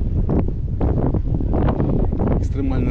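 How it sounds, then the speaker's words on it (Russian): Cold wind blows hard by a river during November float fishing, roaring and rumbling against the microphone throughout while someone talks over it. "Ветер холодный прям дует."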